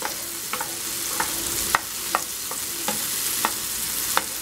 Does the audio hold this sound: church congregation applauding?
no